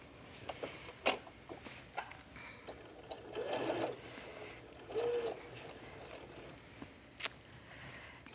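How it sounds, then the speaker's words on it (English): Sewing machine stitching a casing seam with a half-inch allowance on a fabric fish-shaped beach bag, short whirring runs starting and stopping quietly with small handling clicks between. "And then I will sew the casing in place with a 1/2 inch seam allowance."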